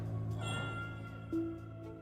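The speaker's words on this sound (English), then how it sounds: "A cat of unknown origin sits among the slime." A single cat meow in the video game Morimens, with the cat sitting among slime, heard briefly over a sustained droning music bed.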